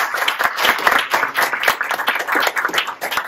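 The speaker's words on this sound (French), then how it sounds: "On peut également les applaudir." Brisk applause from an audience, many hands clapping at a lively pace in a short, steady burst.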